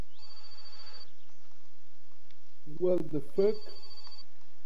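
A telephone rings with a bright, repeating electronic ringtone, stops briefly while a voice says a single word, then starts ringing again, close and moderately loud.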